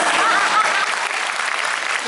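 Steady crowd applause at an outdoor street performance during a Kurume street-performance festival in Fukuoka, loud and continuous for the whole stretch.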